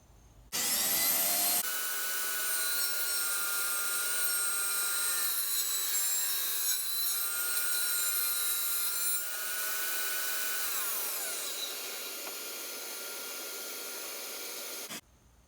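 Table saw blade cutting a small chamfer in wood, a loud steady whining cut that runs almost the whole clip, starting with a sharp rise and stopping abruptly at the end.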